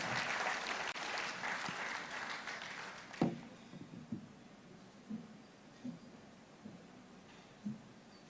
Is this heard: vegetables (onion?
no